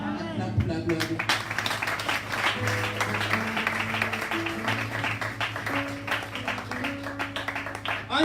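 A church congregation applauds and cheers in praise during a worship service, dense steady clapping with voices and music running underneath throughout.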